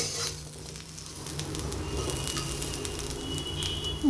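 Food being stirred in a pan on the stove, with a steady, soft sizzle and frying crackle throughout and occasional light scraping taps from the utensil, close and fairly quiet.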